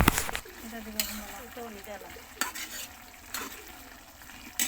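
A spoon stirs a curry of banana blossom, pumpkin leaves and dried fish in a pan, making sharp scraping clinks against the metal over a soft sizzle. Between strokes someone speaks.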